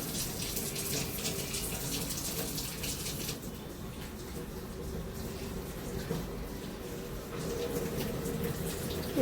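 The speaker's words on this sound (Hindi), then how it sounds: "तो चलिए इसको पहले धो लेते हैं अच्छे से।" Running water from a tap splashes steadily as an object is washed during a puja at home. The gushing stream carries on continuously at close range, its tone shifting slightly midway.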